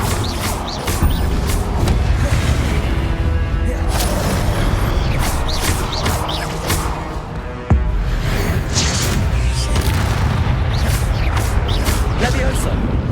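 Fire spell explosions burst repeatedly in the Hogwarts Legacy video game, bright crackling booms and whooshes layered over busy game noise, with one sharp blast midway, while a voice talks throughout.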